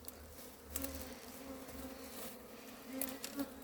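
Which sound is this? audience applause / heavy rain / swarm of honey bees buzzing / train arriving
swarm of honey bees buzzing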